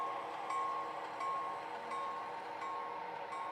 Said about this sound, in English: I suppose the locomotive noise would drown that out anyway.